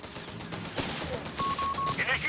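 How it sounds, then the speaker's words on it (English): A Wehrmacht MG-42 machine gun fires in a Company of Heroes 3 battle, sharp rapid bursts mixed with other gunfire and battle noise, with a narrator's voice faintly underneath. "It's an MG-42."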